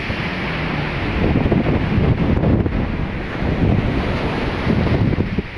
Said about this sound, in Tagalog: Lakas ng hangin. Lakas ng alon.